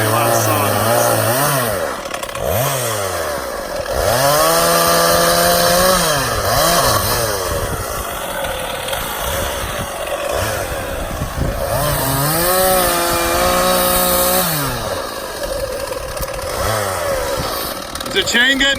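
A chainsaw with a dull chain labors through a hung-up oak tree, its engine rising and falling loudly and continuously as it bogs and revs, while people talk over the noise.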